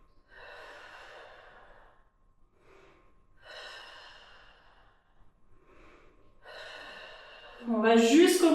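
Controlled breathing during a bodyweight workout, with slow audible exhales and inhales in a steady alternating rhythm, ending in a sudden loud, strained breath close to the microphone.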